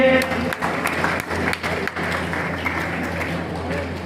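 A crowd at a community talent award ceremony keeps up applause, a continuous wash of clapping under a loud announcer's voice speaking over amplified sound, with a few sharper claps standing out.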